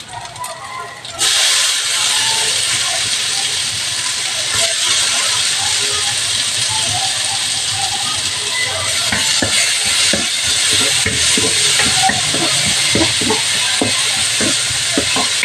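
Tomato frying with onion and garlic in a pan, a loud sizzle that bursts in suddenly and then hisses steadily, with scattered clicks and scrapes of stirring.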